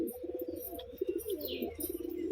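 Pigeons coo softly in a loft, low rolling calls repeating in short bursts with faint chirps and some background noise, no talking.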